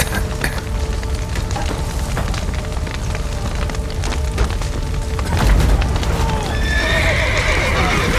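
In a video game, horses whinny and neigh inside a burning stable amid crackling, splintering wood and hoof clatter, with a deep rumble midway and a loud, high neigh near the end.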